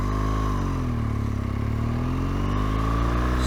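A motorcycle engine runs steadily and loudly up close, its pitch dipping and rising again as the rider eases off the throttle, pulls the clutch and brakes while practicing beginner stops.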